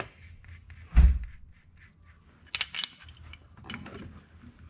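A brake caliper piston tool threads in on the rear brakes of a 2012 Mazda 3, giving a loud close metallic clunk followed by scattered ratcheting and scraping clicks, with no talking.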